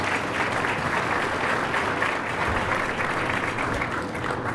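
Keynote lunch audience gives a sustained, dense round of applause for the event's partners, loud and even throughout with no speech over it.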